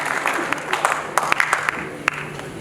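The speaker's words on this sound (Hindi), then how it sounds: "एक जोरदार ताली बजाएं।" Audience applause in a hall at a national seminar remembering Maulana Abul Kalam Azad at Jawahar Bhawan, steady clapping from a crowd under a speaker's voice, with a few sharper claps standing out.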